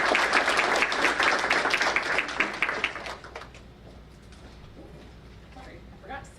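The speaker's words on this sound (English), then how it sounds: "But one more round of applause for our students of the month." Applause for students of the month at a school board meeting: dense clapping for about three seconds that thins out and fades to scattered claps and quiet room noise.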